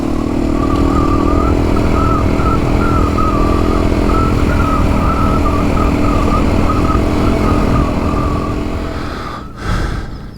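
Several dirt bikes ride off together on a rural outback trail in north-west Victoria, their engines droning loud and steady up close before easing away, with a brief gust of wind noise near the end.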